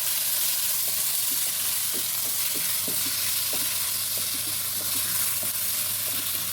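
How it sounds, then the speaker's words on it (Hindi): Chicken mince frying in oil in a kadhai, a steady dense sizzle and hiss with repeated soft clicks and scrapes of a stirring spoon, close and continuous throughout. "से ऑयल गर्म होगा हम 500 ग्राम चिकन का कीमा डालेंगे"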